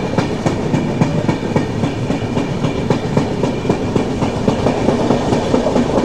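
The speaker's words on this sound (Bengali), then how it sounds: "লক্ষ্মীপুর রোড ছেড়ে ট্রেন এবার চলে যাবে পরের স্টপেজ টিকিরির উদ্দেশ্যে।" The Samaleswari Express passenger train runs on rails between Lakshmipur Road and Tikiri, its loud steady clickety-clack of wheels over rail joints rolling on continuously with a heavy rumble and no voices.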